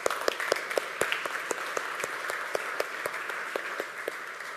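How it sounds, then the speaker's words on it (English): Audience at a Unite Berlin 2018 conference session applauding, a steady dense wash of many hands clapping with sharp individual claps standing out throughout, moderately loud and without speech. "You can clap."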